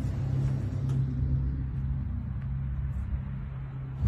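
A futuristic Audi supercar set in sports mode rumbles steadily as it pulls away. The deep, even engine drone stays close and fairly loud, with no other sounds.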